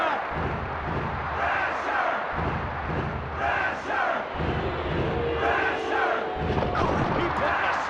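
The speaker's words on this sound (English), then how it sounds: "This crowd is deafening." A roaring crowd cheers loudly and continuously in a wrestling video game, with swelling surges of noise and a commentator speaking over the din.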